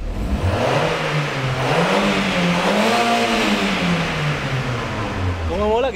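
A car engine running a programmable Speeduino ECU revs up and down repeatedly, close and loud, its pitch rising and falling in smooth swells before climbing sharply toward a 7000 rpm limiter at the end.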